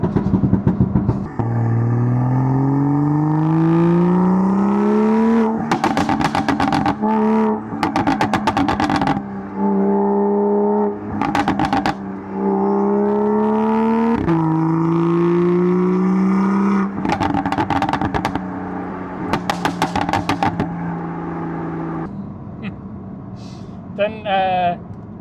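BMW M2 F87 engine revving hard through repeated rising pulls, with loud crackling exhaust pops and bangs between them, close and dominant, occasional voice underneath.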